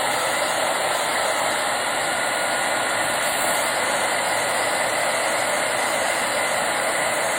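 A hair dryer or heat tool blowing steadily while heating foil transfer gel for crafting, a loud, constant rushing hiss and motor hum with no change in level and no talking.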